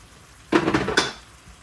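A teaspoon clinks against a pan while sugar goes into red sauce for cheese pasta: two close, bright metallic scrapes and taps in quick succession, about half a second each, in a quiet kitchen.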